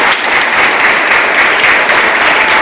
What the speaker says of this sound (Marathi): सगळ्यांचे आपण हात टाळ्या वाजवूया